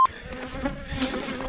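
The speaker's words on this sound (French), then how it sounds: "il y a une guêpe qui m'a piqué" A wasp buzzes close by during a climb at an unusual Sicilian site, a steady insect drone with wavering pitch that swells and fades for about a second and a half, with no talking.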